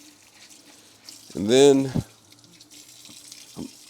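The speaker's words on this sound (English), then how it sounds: "Just going to rinse out my sponge." Tap water runs briefly over a sponge to rinse it out in a sink, a short, loud splashing burst under half a second long, with a voice speaking briefly nearby.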